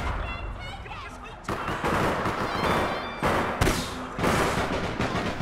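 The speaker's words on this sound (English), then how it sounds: "Who the fuck just shot at me?" Video game gunfire in APB Reloaded, bursts of rapid shots with sharp cracks and thuds, loud and close, beginning after a short lull.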